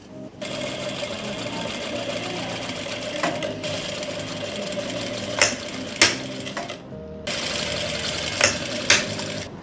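An electric sewing machine stitches a circular palazzo, running in a loud, fast mechanical whir with brief stops and restarts and a few clacks between runs.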